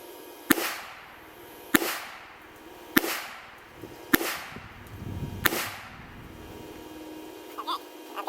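A Smith & Wesson Bodyguard 380 micro compact pistol fires five sharp shots at 5 yards, spaced about a second apart, each a loud crack with a short echo, followed by a few quiet clinks.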